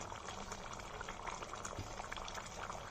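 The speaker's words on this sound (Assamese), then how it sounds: "অলপ অকণমান উতলিলে বাছ মোৰ তৰকাৰী হৈ যাব হৈ গৈছে উতলি গৈছে" Mutton curry simmers in a pot with steady, close, dense bubbling throughout, alone with no talk.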